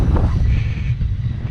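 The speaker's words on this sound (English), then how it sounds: "Windy day." Rough low-pitched wind buffeting the microphone beside a Lamborghini Aventador, a loud continuous rumble with no voices.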